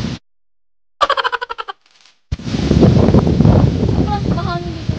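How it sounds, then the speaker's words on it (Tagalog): Heavy wind buffets the microphone in a loud, continuous rumble after a burst of rapid chattering noise and a short silence. "Sobrang mahangin dito guys."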